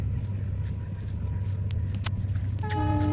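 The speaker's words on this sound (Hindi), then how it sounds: "ये देखिए ट्रेन गुजर रही है हमारे गांव के पास से।" A train rumbles steadily past near a village with a low continuous drone, then a horn toots toward the end; faint voices and clicks sit underneath.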